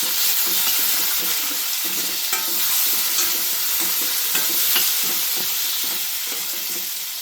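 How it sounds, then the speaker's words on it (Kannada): Whole spices sizzle in hot oil in a pan for a vegetable saagu: pepper, cinnamon, poppy seeds and marathi moggu. The frying is steady and close, with a spoon stirring and scraping in a regular rhythm and no voices. "ಈ ಮಸಾಲೆ ಮೆಣಸು, ಚಕ್ಕೆ, ಗಸಗಸೆ, ಮರಾಠಿ ಮೂಗು ಎಲ್ಲ ಎಣ್ಣೆಲೆ ಫ್ರೈ ಹಾಕೋದು"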